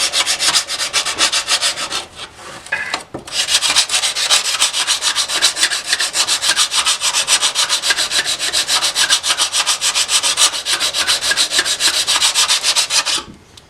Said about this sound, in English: I'm using different parts of the sandpaper and stuff just to kind of make sure that I get even wear